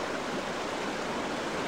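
A creek at Palm Creek, Alaska, where sockeye salmon spawn, rushes steadily with a constant broadband wash of flowing water and no other sounds.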